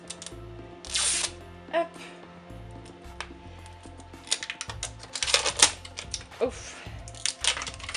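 Plastic packaging of an LOL Surprise doll being unwrapped and torn open up close, with crinkling, tearing and clicking bursts, and a voice uttering brief exclamations.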